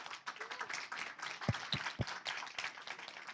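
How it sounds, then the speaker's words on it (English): Applause from a conference audience for panelists after a discussion on AI and society: a sparse patter of clapping from a modest crowd, with a few sharper nearby claps standing out and a faint murmur underneath. "Once again, everyone, please applause."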